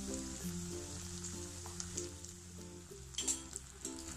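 Potato and semolina fingers fry in hot oil, a soft continuous sizzle and crackle with occasional louder pops, close by and with no talk over it.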